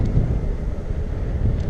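Wind buffets a microphone while a bike is ridden along a road, a steady low rushing roar lasting under two seconds with no voices.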